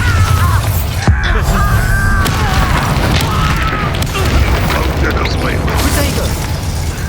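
A Bombarda explosion spell goes off in Hogwarts Legacy amid loud game combat, with a sharp boom and mechanical clatter, whooshing effects and shouts mixed over a dense, busy soundscape.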